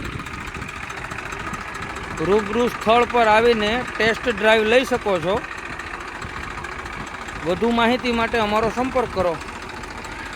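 A Sonalika 740 tractor in running condition idles with a steady mid-pitched engine chug, while someone speaks over it in bursts.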